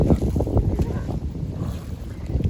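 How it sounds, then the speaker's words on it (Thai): Strong wind gusting outdoors on open water, roaring loud and steady across the whole stretch as broadband buffeting on the microphone, with no voices. "ลมอีหลี"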